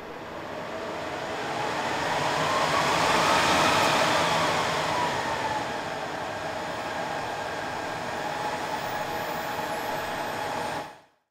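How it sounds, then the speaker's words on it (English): Dell PowerEdge 2950 server with its unmodified stock fans starting up, a loud whooshing fan roar swelling to a peak, easing to a steady high whine, then cutting off abruptly, with no talking. "So now I'm going to turn on the spare 2950, which has the unmodified fans, and we'll see how loud that is."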